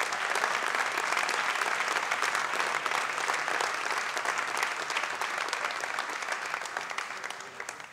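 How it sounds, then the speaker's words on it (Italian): An audience claps at a student award ceremony, a full, even burst of applause from a crowded hall that stays strong throughout and eases off slightly at the close. "Un grande applauso."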